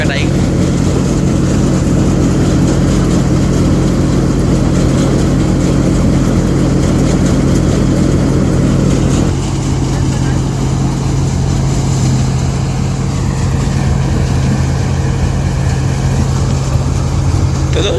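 A combine harvester cuts wheat in a field, its engine giving a loud, steady, low drone that runs unbroken throughout with a slight shift partway through.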